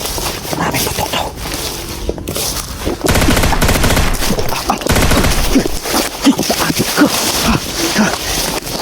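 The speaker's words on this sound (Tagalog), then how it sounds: "Maraming putok daw." Heavy gunfire during an ambush, rapid bursts of many shots and loud automatic fire that surge after a brief lull and keep cracking close and harsh, with scraping noises mixed in.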